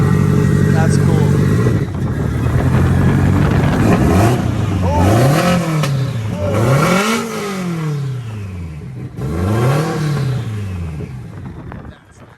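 A Subaru on an all-wheel-drive dyno with slicks, its engine revving hard in repeated climbing pulls and dropping back between them, loud and close, with people talking over it.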